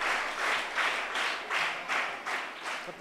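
Steady applause from an audience at a Marathi book launch event, continuous hand clapping with rhythmic swells throughout, close and fairly loud with no speech over it.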